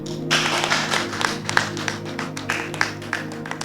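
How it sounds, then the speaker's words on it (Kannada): An audience claps to welcome guests at an Easter Sunday church skit, a run of scattered, fairly close hand claps with a low hum of voices and music beneath. "ನಾವು ಚಪ್ಪಾಳೆ ತಟ್ಟಿ ಶ್ರೀ ಕುಮಾರಣ್ಣ ಅವರನ್ನು ಆಹ್ವಾನಿಸೋಣ."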